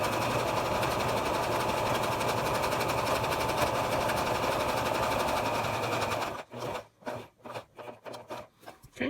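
A sewing machine stitching a reusable menstrual pad, running in a continuous close whir for several seconds, then slowing into a few separate short bursts of stitches.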